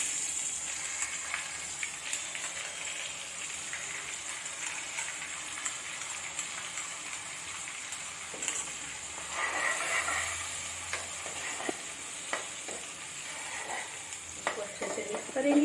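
Garlic-ginger paste, green chilies and curry leaves frying in hot oil for a mutton kofta curry, a steady close sizzle with faint stirring scrapes and no talk.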